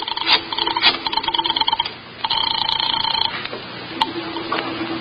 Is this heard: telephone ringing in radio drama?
yes